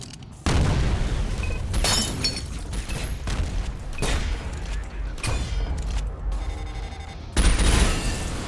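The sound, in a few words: mortar firing and exploding in a video game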